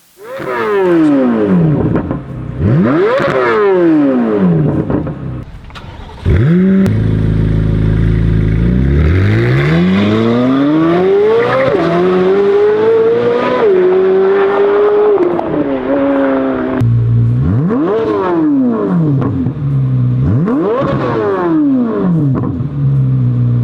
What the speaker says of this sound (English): Let's listen to the Corsa exhaust.